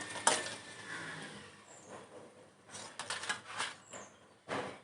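Homemade chips roast in a pan, a soft sizzle with scattered clinks and scrapes of a utensil against metal, faint and close, mostly without speech.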